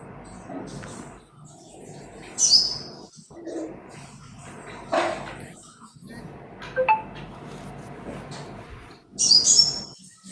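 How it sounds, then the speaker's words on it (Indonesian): Short high-pitched bird chirps break through a few times, faint and somewhat distant, over low background noise and occasional voices. "Ada suara burung."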